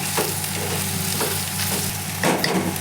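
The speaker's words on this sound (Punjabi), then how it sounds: "ਆਪਾਂ ਇਹਦੇ ਵਿੱਚ ਹਲਦੀ ਐਦਾਂ ਪਾ ਕੇ ਭੁੰਨ ਲਈ ਆ" Turmeric roasts in hot oil for an okra curry, a close, steady sizzle broken by a few brisk stirring scrapes of a spoon against the pan.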